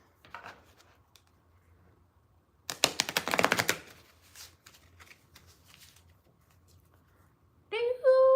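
Tarot cards are shuffled by hand in a quick burst of crisp, riffling flutters, close and moderately loud, with softer handling sounds around it and a voice beginning near the end.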